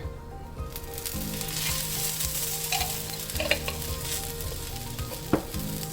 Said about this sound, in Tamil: 2 சைடுமே வேகணுங்க இந்த தோசை. நார்மலாக இதுக்கு கொஞ்சமாக எண்ணெய் ஊற்றிக்கிறேன்.